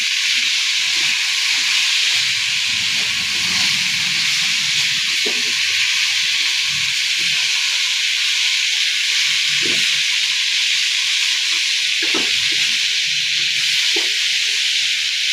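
Mustard-poppy seed paste with tomato and green chili frying in a pan, a steady, loud, broadband hiss running throughout with faint scraping and stirring knocks underneath.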